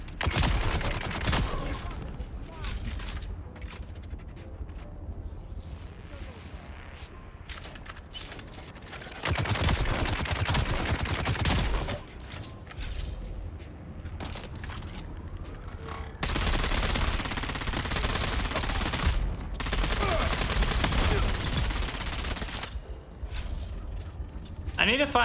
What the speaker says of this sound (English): Alright, who's shooting me now?